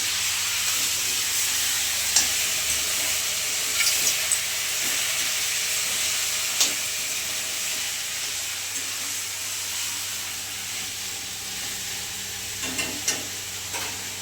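Tempering for dal sizzling in hot oil, a steady close hiss with scattered crackles and small pops spread over the whole stretch, and no talking.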